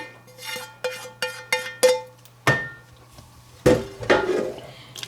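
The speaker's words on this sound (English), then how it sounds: "Get as much of the hamburger and onion out of the pan as you can." A metal spoon scraping and knocking a hamburger and onion mixture out of a pan, heard as a series of sharp close clanks, a few evenly spaced and then a louder cluster of scrapes.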